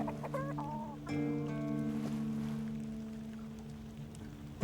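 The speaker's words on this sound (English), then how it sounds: "It's the bloody chickens." Chickens in the Tainted Grail: The Fall of Avalon video game give a few quick, rising clucks, then settle into a softer, drawn-out cluck. They sound close but quiet over a low steady hum, with no talk.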